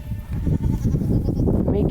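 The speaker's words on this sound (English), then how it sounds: "That is the sound of goats" A buck goat lets out a loud, drawn-out bleat close by at does in heat, with more animal noise mixed in behind it.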